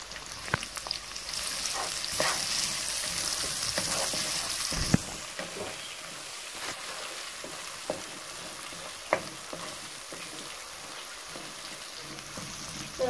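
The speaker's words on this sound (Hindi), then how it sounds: "अब हम इसमें प्याज शामिल कर देंगे दो बड़े साइज़ के प्याज लिए थे मैंने" Two large onions frying in a pan for butter chicken, a loud continuous sizzle with scattered pops and the occasional scrape of a stirring spoon.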